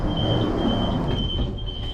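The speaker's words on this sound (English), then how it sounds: "These trains also sound very similar to the Class 377 and 375." A Southeastern Class 376 electric train runs with a steady, loud rumble and a constant high whine, the sound continuous and close throughout.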